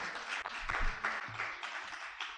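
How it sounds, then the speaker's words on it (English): Audience applause at a law convention welcoming a commissioner, a steady dense clatter of many hands clapping throughout, moderately loud with a brief voice underneath. "Come, let's applaud her until she takes her seat."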